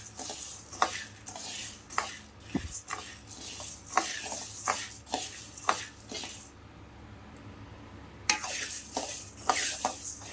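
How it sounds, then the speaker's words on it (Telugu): Dry spices being roasted in a pan over low-medium heat for sambar powder, with a spoon scraping and clinking against the metal in an irregular rhythm and a soft background hiss, close and moderately loud. "ఇవి కూడా వేయించుకుందాం లో టు మీడియంలో"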